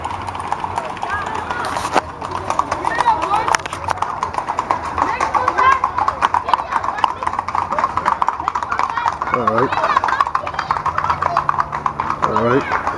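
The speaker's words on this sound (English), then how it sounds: "Oh, horses." Horses trot past, their hooves clip-clopping in a steady, rapid rhythm throughout, with people talking over them.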